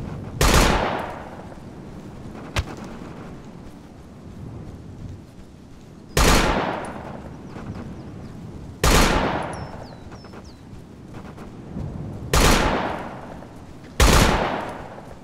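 Gunfire in Operation Flashpoint: Dragon Rising comes as five loud, separate volleys several seconds apart, each a sharp crack that rings out and decays into the distance, with a faint single shot between the first two.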